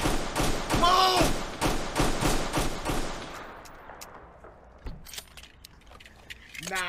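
Rapid bursts of gunfire in the Roblox game East Brickton, a dense close volley of shots for about three seconds, then scattered quieter shots with voices talking over it.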